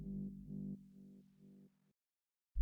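A synth bass shot from the Speed Your Bass preset in a minimal bass production, a few short low pulses fading out into near silence before a sudden loud onset at the very end.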